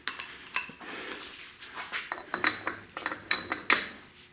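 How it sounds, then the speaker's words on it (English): A metal wrench clinks and clatters as it is set onto the axle nut of a disc brake hub on a 14-bolt rear axle, a series of short, sharp metallic knocks and rattles, close and fairly quiet, with no talk. "I'm gonna throw my wrench on there"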